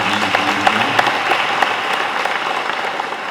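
A basilica congregation breaks into steady applause during a welcome rite, many hands clapping together in a loud, even wash with a few sharper claps standing out early on.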